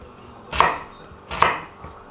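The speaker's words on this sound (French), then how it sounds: "Ici j'ai un oignon. Je vais couper en gros quartier comme ça uniquement." Knife chopping an onion into large quarters on a board: two distinct, fairly loud cuts about a second apart, each a sharp thud with a short crisp edge, with no one talking.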